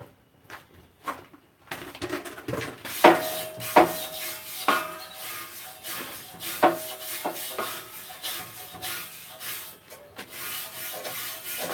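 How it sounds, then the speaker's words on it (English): Steel wire brush scrubbing over fresh welds on a fabricated steel post anvil stand, a series of uneven rasping strokes with scratchy bursts and short pauses, close and fairly quiet. "Might get my steel brush."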